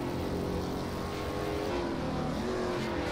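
Race cars, including a powerful Mercedes and a BMW, roar around a track turn in a dense, continuous engine drone that stays loud and steady throughout.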